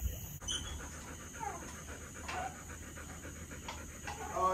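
A dog panting rapidly and steadily up close on a remote ranch in Puerto Rico, with a few faint whimpers, alone without talk.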